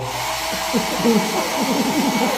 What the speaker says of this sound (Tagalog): Blower na naman yan. Sa buhok.